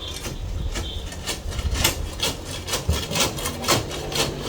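A piece of steel scrapes and rasps inside the pocket of a concrete block on a retaining wall, giving a run of repeated gritty strokes with irregular rhythm, close and moderately loud, without speech.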